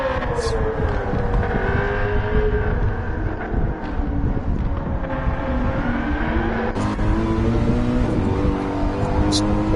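A BMW race car engine drones and revs at Dunlop Championship testing, loud and sustained with shifting pitch, while people talk over it.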